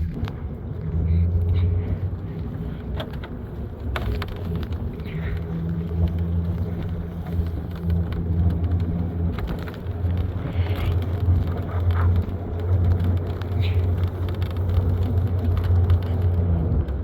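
A pickup truck drives along a snow-covered rural road, its steady low engine rumble and road noise continuing throughout with wind buffeting the microphone.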